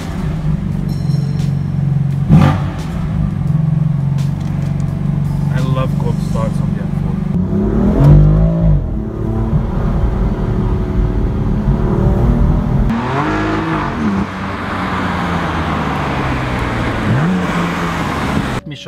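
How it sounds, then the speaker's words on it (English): A BMW M4 engine idling and rumbling close by, with a few rising revs from the exhaust and a person talking over it. "if you wanna hear the exhaust open right away, just press a little bit on the gas"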